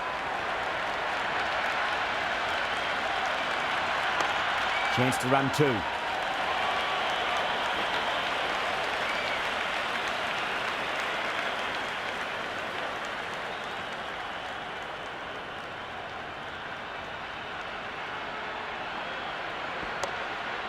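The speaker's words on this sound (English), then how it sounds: "the excitement emanating from this crowd at the moment" Steady, broad applause from a cricket stadium crowd in the video game Cricket 26, sustained for the whole stretch, with brief commentary speaking over it.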